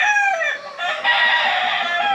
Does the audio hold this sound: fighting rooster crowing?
yes